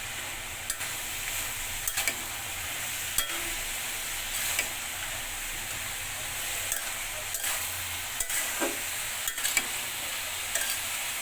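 Spices stirred into frying rohu fish head with cabbage for muro ghonto, a spoon scraping the pan in irregular strokes over a soft steady sizzle.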